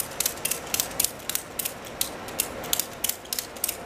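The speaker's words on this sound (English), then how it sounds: "then you start ratcheting it closed" A ratchet strap being cranked tight, giving quick bursts of sharp mechanical clicks in a steady, repeated rhythm, close and alone.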